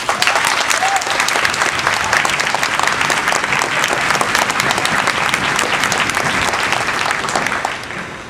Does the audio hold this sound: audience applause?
yes